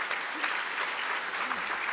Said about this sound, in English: She just did that with a broken back, which I just feel like deserves a whole nother round of applause.